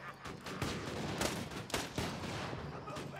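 Gunfire from the Borderlands 2 video game comes as a rapid series of sharp, punchy shots and bursts, firing repeatedly at a loud, steady level throughout.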